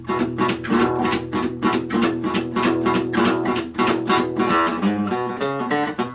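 Fast boogie riff on acoustic guitar, with a driving steady bass line under repeated chordal stabs, played loud and close with no talking.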